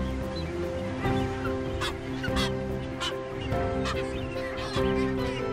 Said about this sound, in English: A breeding colony is seldom, if ever, quiet, as the incessant high-pitched calls sound out